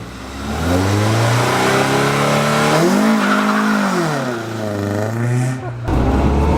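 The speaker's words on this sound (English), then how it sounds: "Is he gonna do a burnout?" A Honda car holds its engine at high revs during a burnout, a loud sustained roar that climbs and dips in pitch with tire screech mixed in before cutting off sharply near the end.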